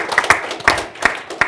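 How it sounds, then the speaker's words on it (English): Applause for Navy sailors at a panel event: a short run of distinct, evenly spaced hand claps, fairly loud and close, with no voices over them. "give the Surface Navy and those sailors out there a round of applause"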